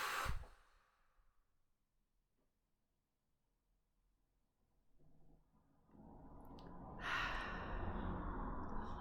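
A soft exhale comes close at the start of an energy routine, then near-silence, followed by a rising hushed rustling and breathy noise that grows louder toward the end.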